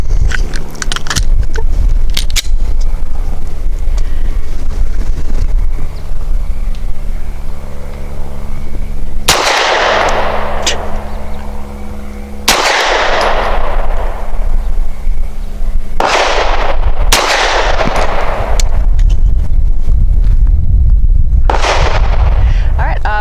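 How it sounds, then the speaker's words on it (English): A Springfield XDe 9mm pistol firing Winchester 90 grain ammunition: several sharp, loud shots spaced seconds apart, ringing over a constant rumbling background. "I'm shooting Winchester's 90 grain, super clean ammunition. 3 rounds, target number 1."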